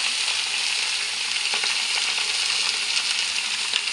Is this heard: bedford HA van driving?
no